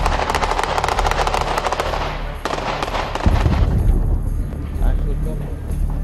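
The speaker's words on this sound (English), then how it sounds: "The sounds you can hear behind me are sounds of ongoing warfare." Rapid bursts of gunfire crackle in the distance, then deeper rumbling booms follow, with voices talking underneath.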